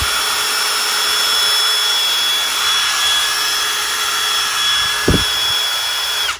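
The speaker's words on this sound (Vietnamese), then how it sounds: "Số 1 để bắn ốc nhỏ nhẹ, số 2 bắn ốc vừa, số 3 à, ba lực đập là 881 newton bắn ốc lớn mạnh." A Milwaukee impact wrench runs close by with a loud, steady motor whine that holds for several seconds before a brief knock and a cut-off.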